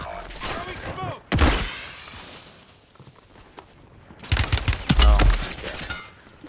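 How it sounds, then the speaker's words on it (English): Bursts of gunfire in the first-person shooter Warzone 3 during a firefight near a mountain, two loud clusters of shots separated by quieter stretches, with voices talking in between. "Getting shot from the mountain."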